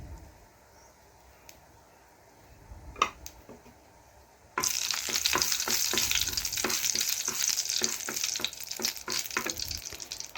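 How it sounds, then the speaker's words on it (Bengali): Dried bay leaf, nigella seeds and dried red chillies hit hot oil for masoor dal, starting with a few faint clicks and then bursting into a loud, steady sizzle with crackling pops that continues to the end, with no talking. "তেল গরম হয়ে গেছে তো দিলাম একটা আমি শুকনো তেজপাতা আর দেব কালো জিরে কয়েকটা শুকনো লঙ্কা একটু ভেজে নিচ্ছি"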